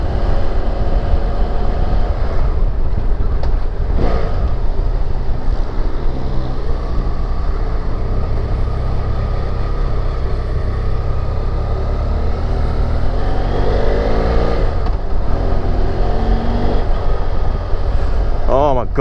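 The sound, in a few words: BMW F 800 GS motorcycle riding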